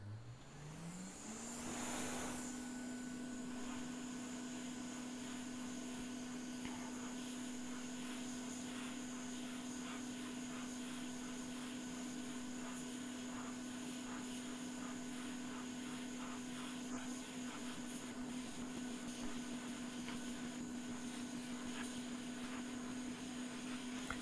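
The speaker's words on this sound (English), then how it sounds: "first, I'm going to try heating this up to loosen the glue tape" A heat gun runs steadily for the whole stretch while warming a Logitech Harmony One remote control to loosen its glue tape, a continuous close blowing drone with a steady whine that rises at the start and then holds level.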